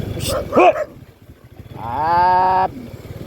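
A dog lets out a short yelp, then a long, drawn-out howl-like whine rises and holds for nearly a second, with rustling noise underneath.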